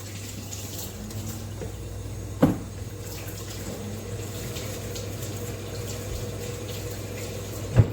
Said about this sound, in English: Okay, I'm just going to wash my hands.